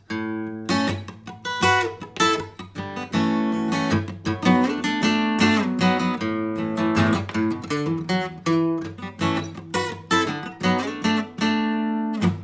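Electric guitar playing pentatonic double stops, two-note chords up and down the scale, quick plucked phrases with a steady bright tone, close and fairly loud.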